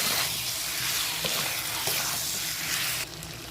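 Mutton being stir-fried and browned with salt in a pan gives a steady close sizzle, with occasional light scrapes from stirring and a slight drop in level near the end.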